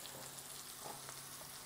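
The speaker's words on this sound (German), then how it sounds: "die klein geschnittenen Zwiebeln und Äpfel sofort in die Pfanne, werden jetzt richtig schön angeröstet" Chopped onions and apples sizzle in a frying pan while being browned for calf's liver Berlin style, a faint, even crackle of hot fat heard alone with no talking.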